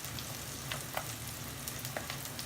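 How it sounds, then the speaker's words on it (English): Vegan fried chicken made from ackee sizzles steadily in hot grapeseed oil, a continuous crackling hiss with small pops, close and without talk. "And we're using grapeseed oil to fry."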